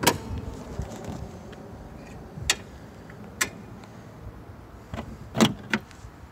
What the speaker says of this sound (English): Let me open the hood.